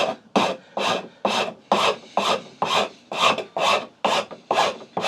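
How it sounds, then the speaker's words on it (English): The medium side of a Shinto saw rasp removes wood in about ten rhythmic, evenly spaced rasping strokes, close up and steady with brief pauses between each pass. "So we're going to start with the medium side of this Shinto Rasp."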